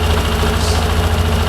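Car engine idling steadily at around 1700 rpm, a continuous low, even rumble with slight vibration, close and loud with no talking.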